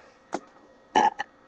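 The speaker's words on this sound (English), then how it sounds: "And then the burp." A short, close burp, with a few brief throaty bursts before it and one more cutting in at the end, in otherwise quiet surroundings.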